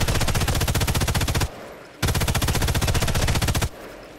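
A machine gun fires in Sniper Elite 5, two long bursts of rapid, loud, evenly spaced shots separated by a short gap, with a trailing echo after each burst.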